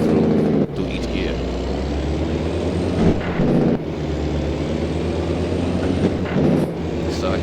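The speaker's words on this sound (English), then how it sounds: "that's one of the prettiest things that I can hear a truck do as they shift. Is that Jake brake that's going through each gear." An 18-wheeler in American Truck Simulator rumbles with a heavy engine drone as its Jake brake barks through gear shifts, the tone dropping and surging at each of several shifts, with someone talking over it.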